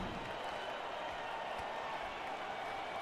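An arena crowd in NBA 2K19 basketball gives a broad, steady roar of cheering and clapping, loud and continuous like distant applause filling the stadium.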